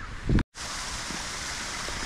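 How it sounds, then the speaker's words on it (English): Waterfall at an Alton Towers theme park garden, a steady broadband rush of falling water running throughout, briefly cut by a short thump and a gap of silence near the start. "Waterfall's looking nice up there, isn't it?"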